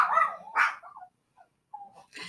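Small dogs yap and bark in a few quick bursts at close range indoors, with short whimpering sounds and a pause between the outbursts.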